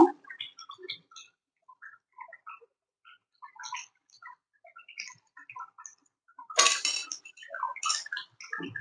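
Eggs are stirred into chicken dak bungalow curry with potatoes in a pan. Sparse, close clinks and taps of a utensil against the pan are scattered over near silence, with one louder scraping burst.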